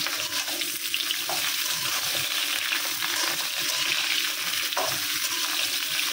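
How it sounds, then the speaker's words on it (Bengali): Fish frying in a pan gives a constant, moderately loud sizzle and spatter, with a few faint clinks and no voices. "আর এক পাশে হলো গিয়ে মাছটা ভাজা বসাইছে"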